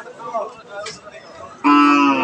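A cow at a busy rural cattle market where cows and calves are sold lets out a loud, close, sustained moo near the end, after a stretch of murmured crowd chatter and background voices.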